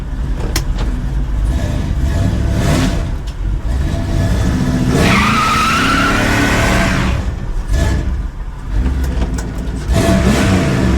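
A 1956 car converted to two-door revs hard while tires spin and screech against pavement, a loud continuous burnout with rising and falling engine pitch.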